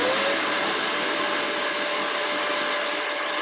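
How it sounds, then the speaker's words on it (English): A new T35 M Class extractor shop vacuum runs steadily at close range, a constant broadband motor whine and airflow roar with a high-pitched tone on top, with no talking. "Doesn't appear to be any noisier than any other vac that I've got."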